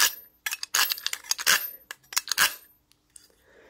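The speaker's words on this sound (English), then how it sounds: "It's a knife sharpener." A GDR-made handheld knife sharpener is drawn through in quick scraping, clinking metallic strokes, several bursts in a row with brief pauses, close and fairly loud.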